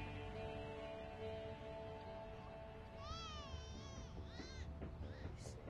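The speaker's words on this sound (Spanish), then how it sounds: "No lo sé, pero se oye como un gato maullando." A cat gives a few faint, drawn-out meows partway through, rising and wavering above a low steady background hum.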